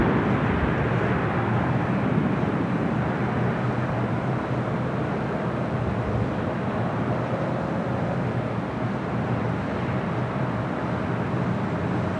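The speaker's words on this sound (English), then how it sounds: "MSC Air Cargo, 777 freighter operated by Atlas Air, arriving on the south side, 25 left." A Boeing 777 freighter arriving on the south side runway at Los Angeles airport gives a steady, broad jet roar that holds evenly throughout, with no voices over it.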